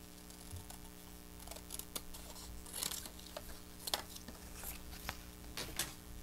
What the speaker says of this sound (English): I got some scraps here, and I could just cut off like a piece.